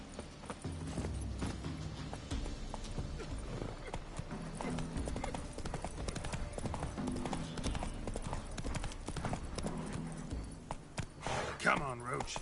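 Roach the horse gallops in The Witcher 3, a steady clip-clop of hooves running under background music and dialogue, with a whinny near the end.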